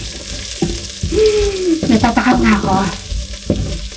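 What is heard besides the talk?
sautéing onions in a pan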